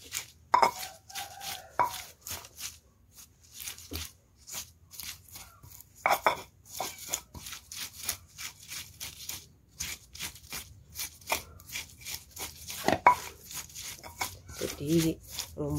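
Chili spice paste is pounded with a mortar and pestle, making a long run of quick, sharp knocks and grinding taps, fairly close, with a voice talking over the pounding at times.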